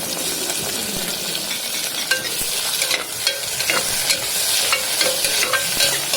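Onion and tomato sautéing in a pan, with steady crackling sizzle and frequent spoon scrapes and clinks from stirring, close and continuous with no talk.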